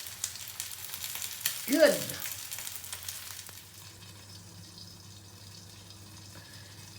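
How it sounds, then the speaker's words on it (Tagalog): Chicken frying in a pan with no oil gives a soft, steady sizzle, with a brief louder burst near the start before it settles into a quieter hiss; a voice speaks a word. "we don't put oil, then we can still fry"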